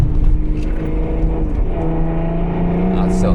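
A BMW 535d diesel engine with a modified exhaust and downpipe revs hard and steadily up close at the Nürburgring, a loud low rumble with a throaty exhaust note, with a voice briefly heard over it.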